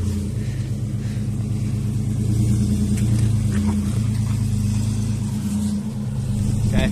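An off-road overlanding vehicle on a trail drops its front right wheel into a big dip, with a steady close engine rumble and brief revving swells running throughout with no talk.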